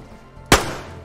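A single sharp gunshot in the survival game DayZ on the Livonia map, one loud close crack with a short decaying tail against a quiet background.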